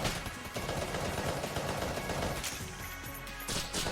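Dense rapid gunfire from the video game Enter the Gungeon fills the whole stretch, continuous bursts of shots and crashes at steady loudness without a break.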